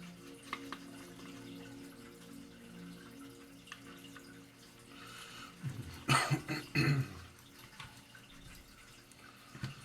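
A short burst of harsh coughing breaks through a quiet room with faint running-water hiss, a few rough coughs clustered together.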